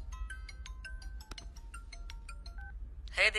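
A mobile phone rings with an incoming call: a run of short, evenly spaced electronic tones repeats at moderate loudness over a quiet room hum, ending in a brief burst of brighter sound.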